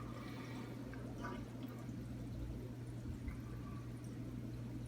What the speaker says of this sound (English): You see the water coming through the clear hose.